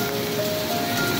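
Heavy rain pours down in Saudi Arabia, a steady dense hiss of drops striking surfaces that fills the short moment evenly and loudly, with no voices.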